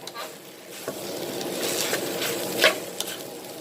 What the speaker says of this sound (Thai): เราจะผัดแค่ให้หมูกระทะสลบนะคะ